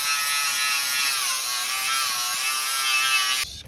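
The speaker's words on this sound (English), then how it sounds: "I'm just going to grind off some of that paint and get myself a nice clean spot to weld to" An angle grinder strips paint from a rusty steel boat trailer with a continuous high whine held steady and close for several seconds before cutting off.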